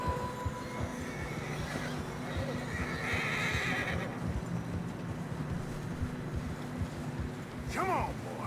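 In Red Dead Redemption 2, horses struggling through fresh snow whinny over steady hoof clatter and wind, with a shrill neigh rising clearly near the end; voices murmur beneath.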